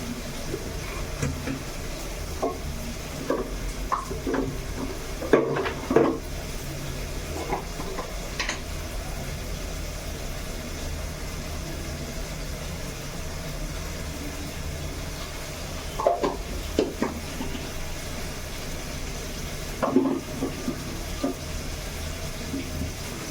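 Masala and turmeric powder frying in oil for beef curry, a soft continuous sizzle close by, with occasional stirring scrapes and clinks of a spoon against the pan.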